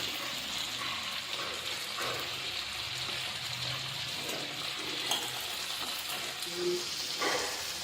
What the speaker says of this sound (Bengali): মাছের মাথা প্রায় ভাজা হয়ে গেছে। এবার এক এক করে আলু এবং কেটে রাখা বেগুনগুলো দিয়ে দেওয়া হবে।